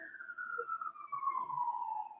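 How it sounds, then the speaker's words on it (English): A single siren tone glides slowly downward, fairly faint and steady, with no voices over it. "Who's got the siren?"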